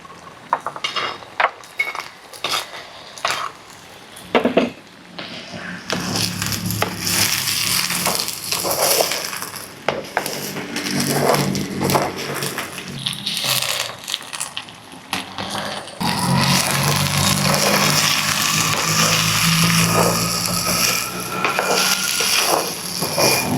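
Boiled peanuts sautéing in hot oil in a pan for a peanut gravy, a busy mix of sizzling and repeated scraping and clattering of a spoon on the pan, growing louder and denser in the second half.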